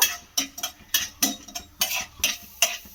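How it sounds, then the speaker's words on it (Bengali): Chana dal frying in hot oil is stirred with a metal spoon, giving a steady series of close scraping strokes against the pan in a quick, regular rhythm, with no voices. "আগে একটু ডালটাকে নাড়াচাড়া করে নেব।"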